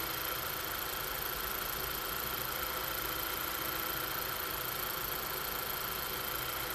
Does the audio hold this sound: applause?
no